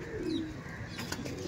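Flying pigeons in a loft, a soft low cooing with faint chirps and some background noise, brief and not loud.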